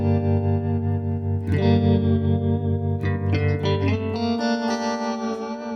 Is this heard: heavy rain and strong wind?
no